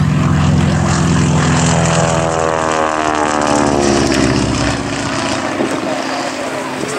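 A propeller aircraft passes overhead at an Old Warden airshow, its loud engine drone holding steady and then shifting in pitch as it goes by, fairly close.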